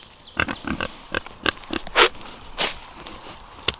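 Pigs on a small homestead grunt and snort in short, irregular bursts close by, mixed with quick shuffling and trotting noises and brief snuffling blasts.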